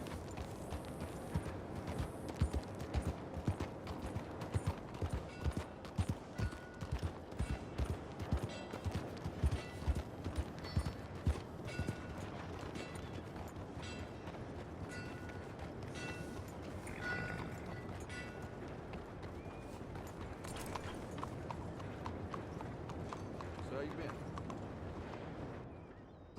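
Horse hooves clip-clopping at a steady walking rhythm in Red Dead Redemption 2, close and distinct for most of the stretch, with characters briefly talking in between.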